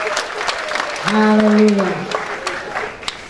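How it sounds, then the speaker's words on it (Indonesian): Church congregation applauding during a sermon, a dense wash of clapping with a voice calling out and ringing over it in the middle. "Berikan tepuk tangan yang terbaik bagi Tuhan."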